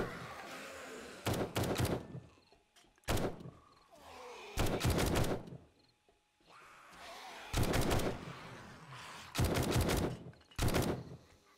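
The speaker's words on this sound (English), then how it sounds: "Love the sound of this gun." Heavy gunfire from a weapon in a horde-night video game, fired in several loud sustained bursts separated by short pauses, with quieter game ambience filling the gaps.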